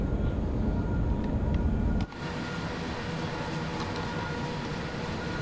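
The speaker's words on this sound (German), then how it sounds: "Ein kurzer Zug." A short train passes in Train Sim World 2 on the SBB Cargo Luzern–Sursee line in Switzerland, a loud rumbling rush that cuts off suddenly to a lower steady hum as the last wagon clears.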